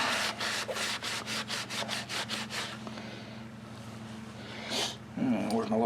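A carburetor bowl from a John Deere JS60 push mower being wiped out, heard as a rapid series of rhythmic rubbing strokes close by, then quieter handling with a brief rustle near the end.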